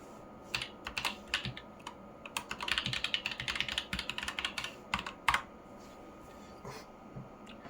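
A password keyed in on a computer keyboard, heard as a close burst of rapid clicking keystrokes with a few short pauses between runs, then a last isolated tap before quiet.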